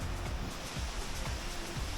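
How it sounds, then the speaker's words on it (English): Bridal Veil Falls, a waterfall in Utah, roars as a steady broadband rush of falling water, continuous and fairly loud throughout with no talk over it. "you can probably hear in the background the waterfall."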